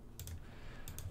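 Faint keystrokes on a computer keyboard come in two quick pairs of clicks, spaced apart, over a low hum.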